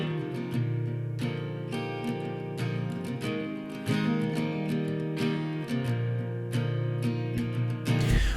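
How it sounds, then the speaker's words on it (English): A double-tracked acoustic guitar plays pop country strummed chords, wide and full, with a steady rhythmic pulse throughout and no voices. "Here is the acoustic guitar."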